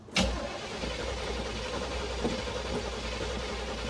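Old square-body Chevrolet C-10 pickup engine cranking, a sharp onset followed by a steady low mechanical drone close by with no speech.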